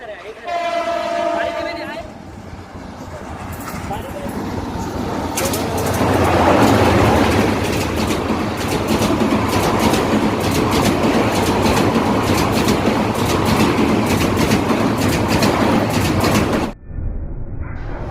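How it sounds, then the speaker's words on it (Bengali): A train roars past at speed, a loud continuous rumble with rapid clattering wheels and a horn near the start, ending abruptly; a voice briefly at the beginning. "এই যে ট্রেন চলে আসছে টান টান উত্তেজনা দেখুন ট্রেন কি স্পিডে আসতেছে"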